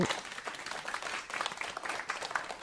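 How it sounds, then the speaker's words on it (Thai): Primary-school classmates applaud a student for the top test score, a faint, steady patter of small hands clapping together for a couple of seconds with no talk. "ปรบมือให้กับพลอยด้วยค่ะ"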